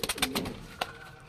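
Pigeons kept at a house make a short, soft coo at close range, with a few faint flutters and knocks around it.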